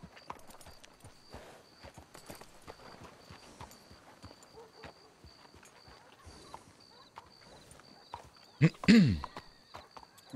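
A horse in Red Dead Redemption 2 walks with regular, moderately loud hoof clops spaced evenly across the clip, followed near the end by a sharp neigh that rises above the steps.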